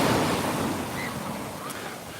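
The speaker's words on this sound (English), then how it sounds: "the water comes all the way up on the sand" Ocean waves wash up onto the sand at Waikiki Beach, a close, steady rushing surf with some wind noise on the microphone, loud and continuous throughout.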